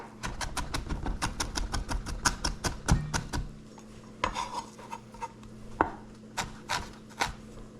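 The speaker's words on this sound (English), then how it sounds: "So I'm just going to cut these thin." A knife chops thin scallions for a garnish on a cutting board, a fast run of crisp, close taps that slows into scattered single cuts with short pauses.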